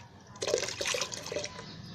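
Water poured into a homemade high-potassium liquid organic fertilizer mixture, a short splashing, gurgling pour close by with no talking.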